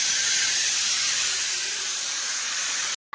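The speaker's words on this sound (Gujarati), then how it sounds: "દાળ ભાત મૂકી દીધા છે કુકરમાં, એટલે તમને એનો અવાજ સંભળાતો હશે." A pressure cooker holding dal and rice hisses steadily, a loud, constant steam hiss that cuts off abruptly at the end.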